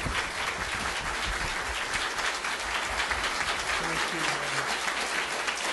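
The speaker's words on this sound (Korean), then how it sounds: "늘 우리 라스터 목사님 나올 때 좀 우리 일어나셔서 정말 존경하는 마음을 가지고 박수로 좀 환영해 주셨으면 합니다." A congregation at a church fellowship gathering applauds as a pastor comes out, a steady wash of many hands clapping that holds loud and even throughout, with some voices beneath it.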